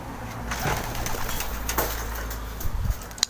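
Soft cooing from pet pigeons and faint bird sounds over a steady outdoor background, with a few light knocks and flutters toward the end as the birds land.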